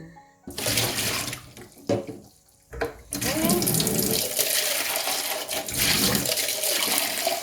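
Tap water runs into a pot being rinsed, splashing in short bursts and then pouring steadily and loudly, with brief gaps where the flow stops.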